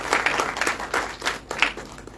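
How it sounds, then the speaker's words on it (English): Sparse, scattered clapping comes from a small audience at the launch of Airbnb's first Entrepreneurship Academy in Goa, India. It arrives as a handful of uneven bursts that rise and fade over about two seconds. "I think we all should give them a round of applause for what they have"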